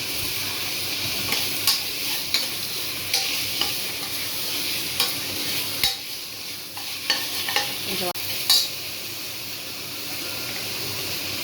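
Tomatoes sizzle steadily while sautéing in a pan, with a spoon scraping and stirring in short, repeated strokes over the constant frying hiss.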